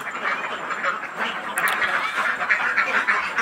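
Ducks quacking at a duck farm, a dense crowd of overlapping calls that keeps up steadily and fairly close throughout, with no talk.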